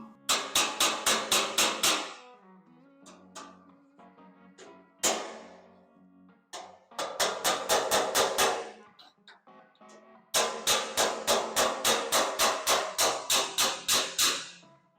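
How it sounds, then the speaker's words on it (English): Sheet metal of a roadster hood being hammered against a cheap T-dolly, with rapid bursts of sharp metallic blows in steady runs, pausing between sets, close and loud. "I can hit that with a T-dolly right now and get it a little bit better"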